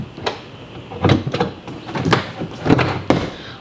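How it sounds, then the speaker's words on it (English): A car door trim panel being slid and pressed back into place produces a series of sharp plastic knocks and scraping clunks, close and fairly loud, spread unevenly over a few seconds. "And then you just slide the door panel over."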